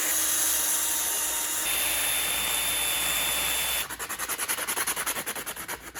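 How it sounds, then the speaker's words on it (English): Steady abrasive sanding on a custom plastic Beyblade layer, a close continuous rasp that turns into rapid rhythmic strokes toward the end. "it was time to start the sanding process of creating this custom."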